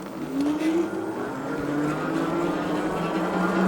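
An Engwe E26 electric bike in de-restricted mode runs at full throttle, its motor whine rising steadily in pitch under loud wind rush, heard close from the rider's chest.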